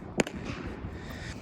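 A single sharp firework pop or crackle bursts near the start at a fireworks store's lighting area, followed by a faint low rumbling background.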